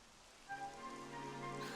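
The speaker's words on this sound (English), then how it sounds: "Oh, it's raining." Steady rain hiss in the Dragon Quest 11 S game world, a soft wash that swells and brightens partway through, with faint tonal game ambience layered underneath.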